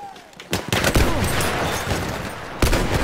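Gunfire in the shooter Battlefield 1, a burst of close, loud shots blending into a sustained roar of battle noise, with another sharp report near the end.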